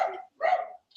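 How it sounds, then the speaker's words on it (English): Dogs barking in the background indoors: two short, moderately faint barks about half a second apart, with another starting right at the end. "my dogs are barking in the background"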